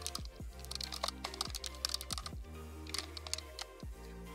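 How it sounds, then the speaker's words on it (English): Quick bursts of keys clatter on a computer keyboard as a message is typed, irregular clicks and taps up close, with brief pauses between runs. "You can also type a message."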